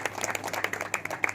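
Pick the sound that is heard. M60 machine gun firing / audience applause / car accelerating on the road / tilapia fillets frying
audience applause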